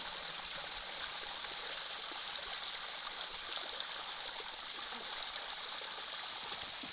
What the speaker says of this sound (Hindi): ये है हमारा छोटा सा झरना जहाँ पे हम पानी पी रहे